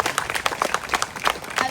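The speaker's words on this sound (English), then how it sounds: "Yes, let's give him a big round of applause." A small crowd at a Flag Day ceremony in Porterville claps, a short burst of distinct, fairly close handclaps in an uneven rhythm.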